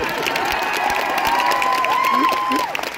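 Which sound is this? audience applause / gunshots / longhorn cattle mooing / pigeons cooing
audience applause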